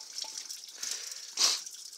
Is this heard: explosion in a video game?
no